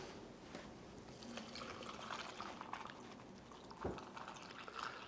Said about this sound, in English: Gonna pour that over some ice